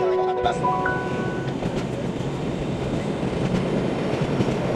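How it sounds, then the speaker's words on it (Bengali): Sagano Romantic Train, a scenic sightseeing railway near Kyoto, Japan, pulling away after a stop: brief high squeals fade into a steady rumbling roar of wheels and carriages. "বিরতির পর ট্রেনটা যখন আবারও যাত্রা শুরু করলো"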